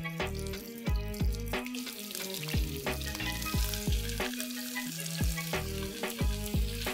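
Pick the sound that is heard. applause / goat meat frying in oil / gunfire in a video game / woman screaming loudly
goat meat frying in oil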